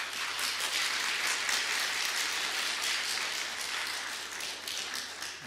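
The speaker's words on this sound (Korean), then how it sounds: "우리 잠깐 일어나 주시면 우리 환영으로 박수를 한번 하시면 어떻겠습니까?" A church congregation claps in welcome for visiting guests, a steady wash of applause from many hands that holds moderately loud and tapers slightly at the end.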